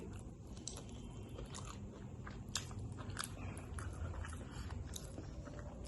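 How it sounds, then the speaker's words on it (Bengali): Someone eating a fried fish head alongside a Bengali home-cooked meal, with soft, close, irregular chewing and crunching bites over a steady low background hum, no talking. "আমি সেই মুড়োটা নিয়েছি মোড়োটা দিয়ে খাচ্ছি"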